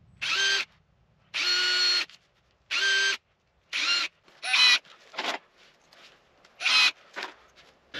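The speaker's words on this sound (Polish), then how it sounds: "Najpierw nawiercę sobie w każdym dziurki" Power drill boring pilot holes into a wooden wall-mounted coat hanger, several short bursts of whirring spaced about a second apart, then shorter drilling and clattering bits, close and clear.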